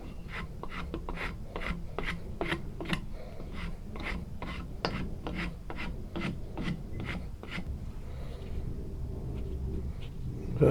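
Steady rhythmic rasping of a hand file shaving down a steel dagger blade into a taper, about twenty even back-and-forth strokes up close, then a brief pause near the end.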